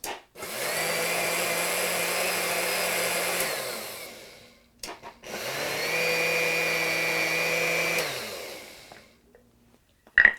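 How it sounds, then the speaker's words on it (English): A blender runs in two long pulses on sorrel soup, each a loud, steady motor roar lasting about four seconds with a brief stop between, and no talking over it. "I'm pulsing it to make sure that everything has a chance to blend before I just really let it go."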